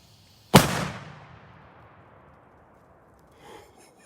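A Super Cobra 6 firecracker goes off outdoors with a single sharp, loud bang, followed by a rumbling echo that fades over a few seconds.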